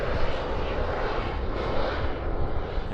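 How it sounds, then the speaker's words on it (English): Jet-powered Pitts aerobatic plane at an airshow climbing in a final spiral, a loud continuous roaring jet rush that stays steady and broad throughout, with no voices. "And there's that final spiral climb that I was talking about earlier."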